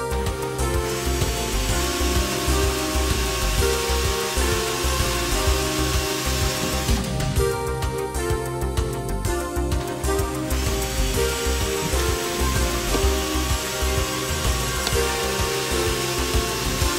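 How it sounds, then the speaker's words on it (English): A power drill whirs steadily and loudly while boring holes in the fixing plate of a Siegenia Aubi SI-Motion MHS400 lift-slide sash, with a dense continuous motor drone and a brief change in tone midway, no voices. "Use the holes in the fixing plate for scribing and drilling."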